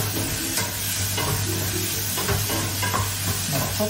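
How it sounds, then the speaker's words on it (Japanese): Vegetables stir-fry over high heat in a pan, a steady close sizzle with the scrape and toss of stirring throughout and no talk. "強火で炒めてるので、 焦げないようにしてます。"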